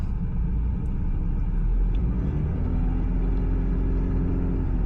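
A car engine idling with the throttle held up and the clutch only slightly engaged, a steady loud low rumble with a faint rising drone underneath, no voices.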